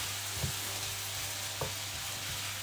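Mushrooms sizzling in a frying pan over a steady hiss, with a few low knocks as they shift, close and without talk.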